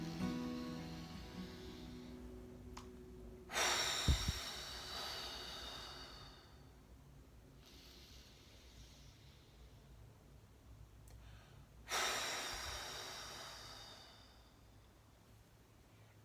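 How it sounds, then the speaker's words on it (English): Deep, forced breathing fills the space in slow cycles: long, strong, close airy rushes around 3.5 and 12 seconds, with softer inhales between and no talking. "all I focus on is filling myself with as much air as possible and forcing it out with as much force to release that frustration"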